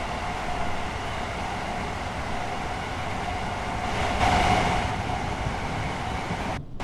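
LNER Azuma Class 801/2 train simulated in a driving game on the Doncaster to Peterborough route, giving a steady rolling rumble and hum throughout that swells briefly midway, then cuts off abruptly near the end.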